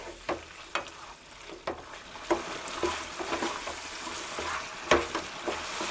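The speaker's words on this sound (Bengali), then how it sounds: "দিয়ে এটা ভালো করে নাড়াচাড়া করে দেবেন" Marinated chicken stirred with gravy in a pan over a low flame: soft, continuous sizzling broken by repeated sharp scrapes and clacks of the spatula, close and fairly quiet.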